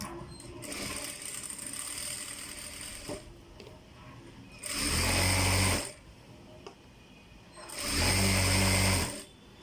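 A sewing machine stitches a seam closed on a pillow cover in two loud whirring bursts of about a second each. Softer mechanical rattling and handling noise fill the quieter stretches between them.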